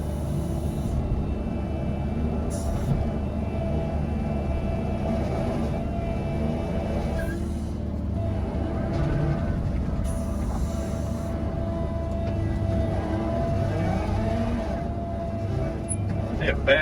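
A tracked digging machine runs a steady, droning engine close by while it digs into a yellowjacket nest, with occasional clanks and a voice speaking over it.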